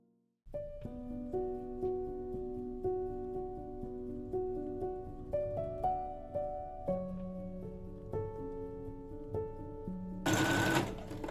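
A sewing machine stitches couture gown pieces in steady mechanical runs, the motor speed shifting several times, with a brief harsh burst near the end; fairly quiet and close, with no talk.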